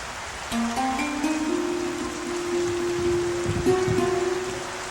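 Heavy rain hisses down steadily on a village school day, a broad constant wash of falling water with a rising tonal drone running through it and no voices.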